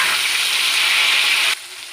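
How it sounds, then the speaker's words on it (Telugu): Tomato pieces fry in a pan of oil with curry leaves for upma, giving a loud, dense, even hiss close by that cuts off abruptly and drops to a much quieter sizzle. "ఇప్పుడు టమోటా ముక్కలు వేసేద్దాం"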